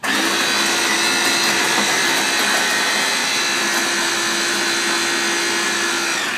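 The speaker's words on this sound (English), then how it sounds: "Plug in your food processor." A food processor's steady, loud motorized whir runs without a break, a high-pitched blending drone with a constant hum underneath.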